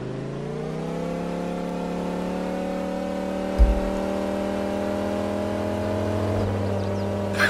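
A car engine in a racing video game holds a steady, rising rev for several seconds. A brief thump lands midway, and the engine stays loud and sustained throughout.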